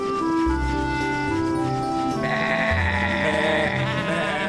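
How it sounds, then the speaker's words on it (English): A cartoon sheep bleats in a long, wavering, nasal call, then bleats again more brightly. The sound is loud and close over steady background sound and music. "Honk is teaching Woofy how to look after the sheep"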